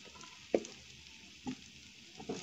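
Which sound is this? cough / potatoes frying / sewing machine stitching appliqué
potatoes frying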